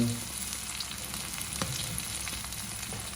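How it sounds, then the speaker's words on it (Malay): Garlic and shallots fry in hot oil in a home kitchen, a steady close sizzle with occasional stirring clicks and scrapes. "minyak pun dah panas. Kita masukkan bahan-bahan tadi. Bawang putih dan"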